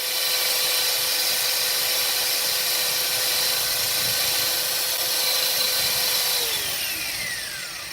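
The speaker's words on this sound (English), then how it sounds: "Just taking the paint off in preparation for our welding" A power tool strips paint off a bumper car before welding, giving a loud, steady, continuous grinding whine that holds for several seconds and eases off slightly near the end.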